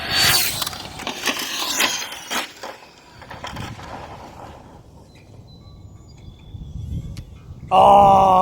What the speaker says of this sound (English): So the pinion just dumped off.